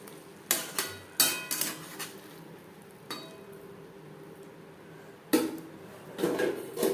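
Metal pot and lid clatter in a kitchen while cabbage curry is covered, with a few sharp clanks and clinks in separate bursts and quiet pauses between them.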